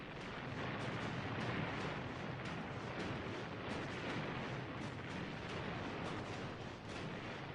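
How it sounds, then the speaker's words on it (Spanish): Korean War artillery fires a salvo, a continuous dense roar of blasts and rumbling detonations that holds loud and unbroken, with sharper cracks scattered through it and no voices. "Una explosión gigantesca."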